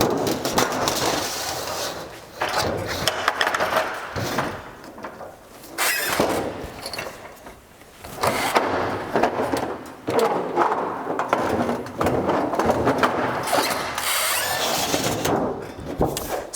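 Sheet metal trim being bent on a brake: repeated metallic clanks, scraping and squeals come in bursts with short pauses between, up close and fairly loud.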